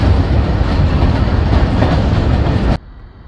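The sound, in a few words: train at Alessandria railway station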